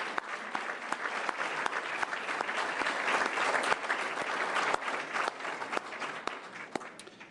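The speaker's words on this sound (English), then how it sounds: "let's give you all a round of applause, our certified bureaus that are with us." Audience in a meeting room applauding certified tourism bureaus, a sustained round of clapping that swells in the middle and fades near the end, moderately distant with no talk over it.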